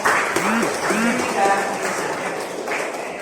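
Students in a classroom clap together in a steady, dense patter that runs throughout, while voices speak over the applause.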